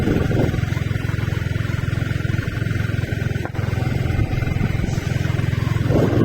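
A Yamaha R15 motorcycle engine hums in a steady, continuous low drone nearby, with a brief dip partway through and no other prominent sounds.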